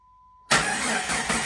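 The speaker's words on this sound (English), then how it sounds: "Now we should be ready to crank." A rebuilt Jeep engine bursts from silence into a loud, dense roar as it cranks and catches, running steadily and close for about a second afterward.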